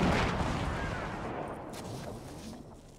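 Gunfire in the Fortnite battle royale game, a dense burst of shots and booms at the start that fades into a rumbling, decaying wash of distant fire.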